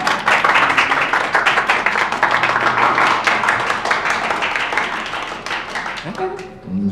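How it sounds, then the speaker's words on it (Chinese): An office group claps for a colleague after a successful funding round, brisk and close, rapid crisp hand claps running for several seconds before thinning out near the end. "头号功臣童文杰，大家鼓掌"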